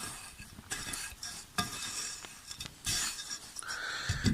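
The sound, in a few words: mixing sugary carp bait mixture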